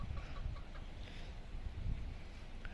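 Chickens cluck softly at a distance over a low, steady background rumble, a few short calls scattered through.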